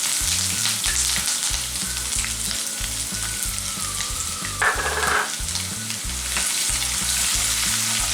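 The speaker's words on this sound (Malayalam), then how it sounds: "ഇനി ഇതിലേക്ക് ജിഞ്ചർ ചേർത്ത് കൊടുക്കാം." Ginger frying in hot oil for a Kerala-style beef pickle: a steady, loud sizzle runs throughout with rhythmic stirring and scraping strokes in the pan, and no one speaks.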